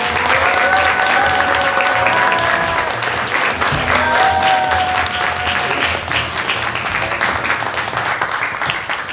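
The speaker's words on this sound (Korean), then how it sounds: "큰 박수 부탁드립니다" Sustained applause from an audience at a talk concert on the National Security Act, welcoming striking hospital union members; steady dense clapping throughout, with faint voices underneath.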